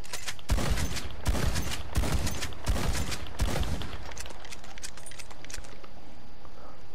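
Shotgun fire from a semi-auto and a pump-action shotgun in Red Dead Online, five loud evenly spaced blasts with booming tails, followed by a quieter stretch of ambient game noise.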